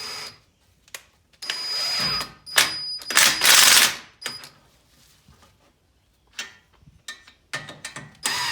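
A hand ratchet clicks while tightening bolts during a CV axle replacement on a 2007 Subaru Impreza WRX wagon, with bursts of quick clicking broken by pauses and a few clanks of tools, close by.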